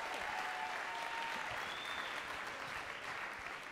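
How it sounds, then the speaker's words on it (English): Sustained, full applause from a seated audience at a TEDx youth event, many hands clapping evenly in a dense wash, with faint cheering tones rising through it. "Let's give him another round of applause."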